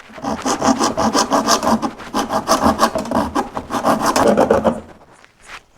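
A wooden leg is sawn off a broken chair with rapid back-and-forth rasping strokes, steady and close for about five seconds before the cutting stops and a few faint knocks follow.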